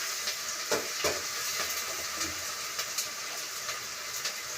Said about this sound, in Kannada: ಶುಂಠಿ ಪೇಸ್ಟು ಹಾಕೋಣ.